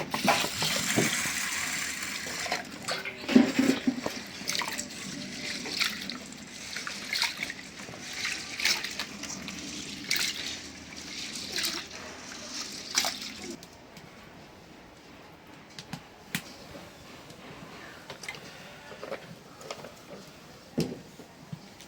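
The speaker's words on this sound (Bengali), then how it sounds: "এখন হলো এই যে মুসুরির ডালটা একটু ধুয়ে নিই।" Tap water runs and splashes steadily while red lentils are rinsed in a kitchen, a loud continuous wash that drops to quieter trickling and dripping about two thirds of the way through.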